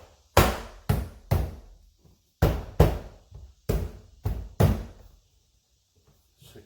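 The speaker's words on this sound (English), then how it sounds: "just snap the door back into place here" A Honda Civic door trim panel is pressed back onto the door, giving nine sharp, close snapping knocks in uneven bursts, followed by a brief silence.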